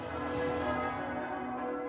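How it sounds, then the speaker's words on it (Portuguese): Church bells ringing out to announce a newly chosen pope, a steady sustained metallic peal with lingering resonant tones, heard alone without voices. "E os sinos anunciam que a Igreja tem um novo líder."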